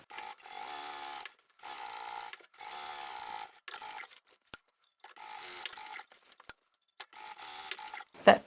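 Home sewing machine running a few millimetres from an earlier line on the pocket of a reversible lined shopping tote, in four or five steady bursts of motor whir with short silent pauses between them and nobody talking.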